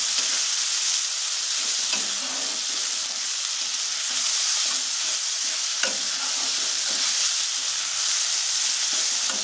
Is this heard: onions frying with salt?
yes